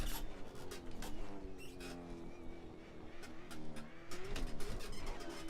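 A car oversteering in a video game race, its engine droning and rising and falling in pitch through gear changes, with tyre squeal and skid noise on top and constant close loudness.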